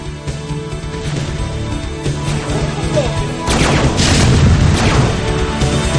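Heavy explosive booms and crashing impacts from siege tank fire in the StarCraft video game, as shots hit a supply depot, build to a louder cluster of blasts over steady game noise.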